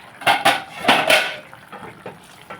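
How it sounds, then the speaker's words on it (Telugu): A metal lid set onto a cooking pot of okra and tomato curry, a few loud clanks and rattles up close in quick pairs, then softer settling knocks, with no voices. "మనం మూత పెట్టుకుందాం"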